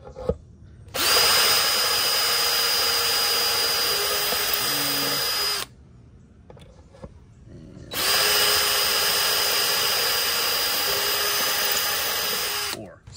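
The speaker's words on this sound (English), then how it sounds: "I will try to drill as straight down as possible" A power drill bores straight down through a skateboard deck in two long, loud whining bursts of about five seconds each, separated by a short quiet pause with faint handling noise.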